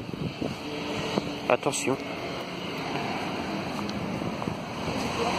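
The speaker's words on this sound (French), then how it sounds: "Ah, il y a du vent." Wind gusting outdoors in Évreux, a broad rushing buffet over the microphone that persists throughout, with a brief spoken word early on.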